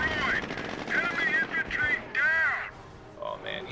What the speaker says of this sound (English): a strafing run helps kill them